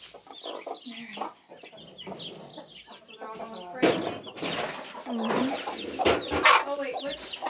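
Chickens cluck and peep around freshly set-down chick feed, with busy overlapping clucks that grow louder and more excited toward the end, close by, mixed with soft rustling and voices.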